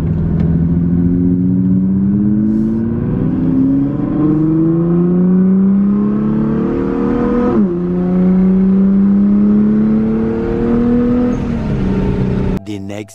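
A Nissan R35 GTR on new wheels drives along with a close, steady electric-like whine that climbs in pitch as it speeds up, drops sharply once midway, then rises again under constant road noise.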